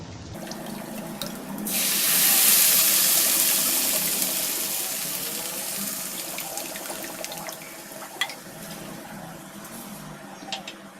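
Water pours into a pan for suji upma, a strong gushing stream that swells early and then tapers into softer trickling and faint kitchen clatter, no talk.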